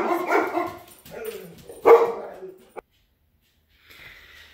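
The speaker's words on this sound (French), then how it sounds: "je suis toujours interrompue par la chienne" A dog barks in a few sharp bursts close by, with a brief whimpery yip, in a quiet indoor room, followed by near silence and a faint high tone.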